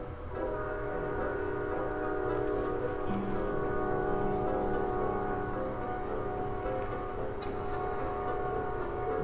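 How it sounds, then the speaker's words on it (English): A passing train rumbles loud and steady throughout, with sustained horn-like tones layered over the low roar and faint clanks scattered across it. No one speaks. "I'm gonna wait till this train goes by."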